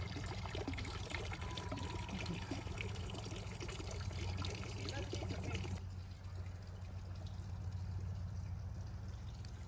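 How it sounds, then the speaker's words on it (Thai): Steady rushing water from a small garden waterfall, running continuously and fairly close, with a muffled voice faintly underneath. "มีน้ำตก มีน้ำตก"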